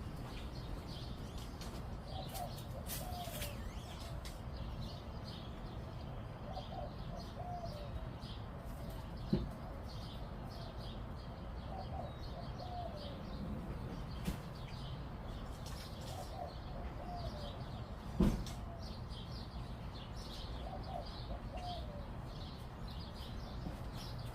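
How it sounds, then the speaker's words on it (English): Soft, repeated pigeon coos at a distance over a steady outdoor hiss, with occasional faint chirps and a few sharp knocks. "I think it's like a pigeon, and the bird sound"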